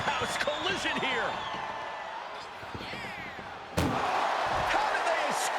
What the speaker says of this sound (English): Look at the struggle just to shut that first door.